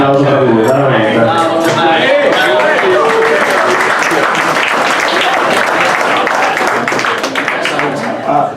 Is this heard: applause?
yes